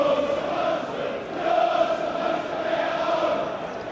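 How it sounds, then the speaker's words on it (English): Tottenham supporters chant inside Tynecastle stadium at a Europa League qualifier against Hearts, a sustained, massed wash of singing voices that swells and dips and carries from a distance across the ground. "the voices we can hear inside Tynecastle at the moment are Tottenham voices"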